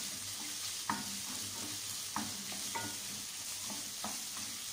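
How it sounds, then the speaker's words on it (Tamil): Onions frying in a pan for a Tamil chicken curry give a steady, close sizzle, with a few sharp stirring scrapes at irregular moments and no voices. "ஸோ நல்லா வதங்கட்டும்."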